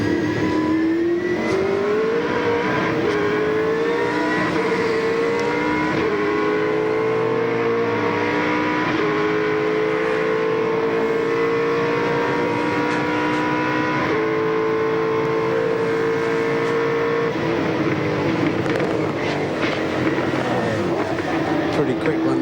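A V8 supercar races on a wet track at Sandown in a 2001 championship race, its engine loud and sustained with shifting pitch as it accelerates and eases off, while a commentator talks over it.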